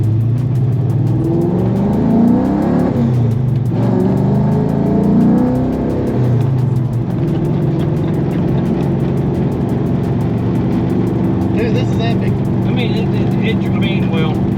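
A 1997 Cobra sports car engine drones steadily and loudly throughout, rising in pitch as it accelerates, with voices talking over it.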